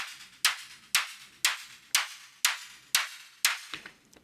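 A synthesized noise hit with auto pan repeats about every half second, eight sharp bright bursts each decaying quickly, bouncing like a rhythmic delay and tailing off at the end, with no voices.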